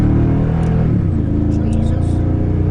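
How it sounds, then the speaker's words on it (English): A 2017 Toyota Tundra Limited pickup's deep, throaty engine idles and revs nearby, low dual-exhaust rumble with pitch shifting, while someone talks over it. "Dual exhaust is just awesome on this. It sounds really good."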